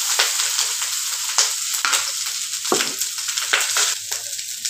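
Rice with green peas is stirred in a frying pan for pulao. Continuous close scraping and rustling is heard over a soft sizzle, with occasional sharper knocks of the spoon.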